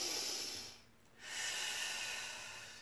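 Deep yoga breathing up close: a long hissing exhale through the nose, a brief pause, then a slow full inhale, quiet and alone with no talk.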